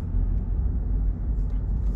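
A car driving on a road, heard from inside as a steady, loud low-frequency rumble and road drone that persists throughout with no distinct events.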